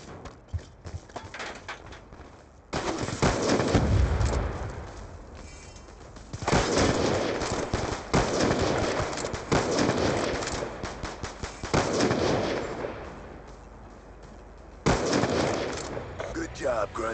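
Gunfire in the Black Ops II shooter game, with loud bursts of shots and explosive blasts in several separate volleys between quieter gaps, under occasional voices.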